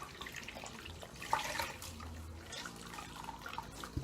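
Cold tap water runs while soap suds are rinsed out of a synthetic wig, a faint, steady splashing trickle with a few brief louder splashes.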